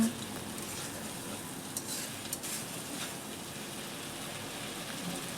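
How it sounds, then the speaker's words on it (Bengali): Spices frying in a pan for a doi katla curry, a steady close sizzle running throughout with a few stirring scrapes, no talk. "দিয়ে দিলাম মশলাটা দিয়ে কিছুক্ষণ নেড়ে চেড়ে নেব"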